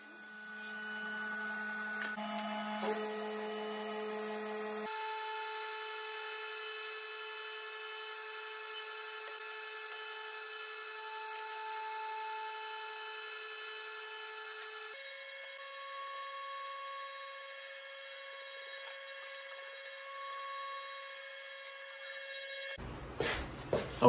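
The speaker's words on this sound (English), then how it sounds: "I'll also use the stop block on the crosscut fence to make repeatable cuts" A power saw cuts wooden desk panels against a crosscut fence with a stop block. The blade's steady whine holds through long, even passes and shifts pitch between cuts, with a clatter of wood at the end.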